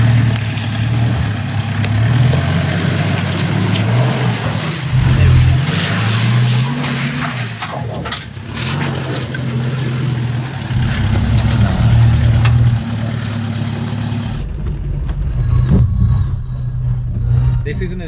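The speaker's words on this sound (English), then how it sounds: "Perfectly put your tyres in the right spot to be able to crawl up. Just like what is happening right now." An off-road vehicle engine labours and revs as it crawls slowly up a very rocky trail, loud and close, the low rumble rising and easing over the climb while a person talks over it.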